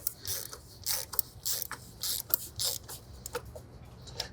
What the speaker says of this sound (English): We'll grab our 32mm socket and just snug it down very gently, and then we'll torque it down to 25 Newton meters.